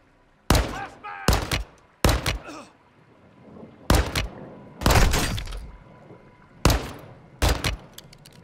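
Gunfire in Call of Duty: Modern Warfare II, a series of loud, sharp shots in separate bursts, some paired, with brief ringing tails between them and quiet gaps.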